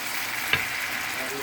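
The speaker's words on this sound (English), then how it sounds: "So now you're gonna put the sausage now, because you want the sausage to cook too a little bit too. So you're gonna mix it." Sliced Franks chicken sausage sizzles in a frying pan as it is stirred for breakfast, with a steady close hiss and one sharp scrape of the utensil partway through.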